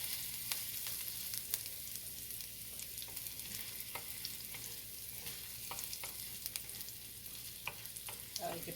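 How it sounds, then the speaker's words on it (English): Garlic frying in a pan on low heat for stewed okra, a steady soft sizzle and crackle running throughout, with occasional scraping clicks of stirring near the pan. "We're gonna fry up this garlic"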